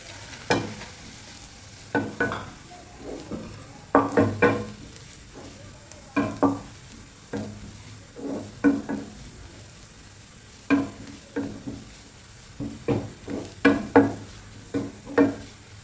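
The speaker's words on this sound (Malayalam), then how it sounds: "ഇതിലേക്ക് ആദ്യം ഒരു അര കപ്പ് തേങ്ങ ഇട്ട് കൊടുക്കാം" Half a cup of grated coconut frying in a pan, stirred with repeated scraping strokes in an irregular rhythm over a soft, steady sizzle, close and fairly quiet, with no voices.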